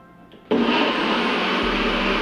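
A NutriBullet blender kicks on abruptly after a short quiet moment and whirs loudly and steadily, mixing a protein shake, a close continuous motor drone with no speech.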